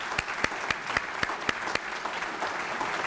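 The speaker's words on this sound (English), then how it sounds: "So let's give them a round of applause" Applause for local elected and appointed officials at a county civic gathering, with broad steady clapping and a few sharper individual claps standing out, fairly distant and moderately quiet.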